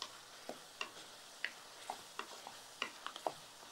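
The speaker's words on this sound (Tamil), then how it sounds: "கொஞ்சம் தண்ணி தெளித்து இந்த மாதிரி வதக்கணும்" Faint, quiet sautéing in a pan: soft scattered sizzles and scraping stirs, irregular and close.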